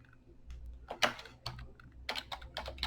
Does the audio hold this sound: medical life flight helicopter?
no